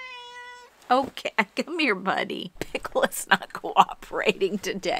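A cat gives one short, clear meow at the start, then a person speaks over it for the rest of the stretch.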